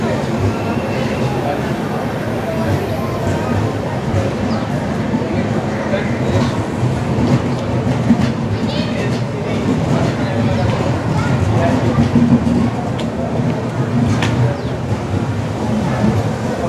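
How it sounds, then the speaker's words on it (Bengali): A train rolls into a station platform with a steady, loud rumble of wheels and carriages, a dense continuous roar throughout, with faint voices talking underneath. "দেখা যাক আগে ট্রেনটা ঢুকুক পুরোটা"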